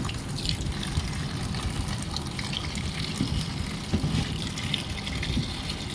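Malabar spinach, pumpkin and potatoes washed in a basin of water, a steady close sloshing and splashing with a faint tap-like hiss running throughout and no talking.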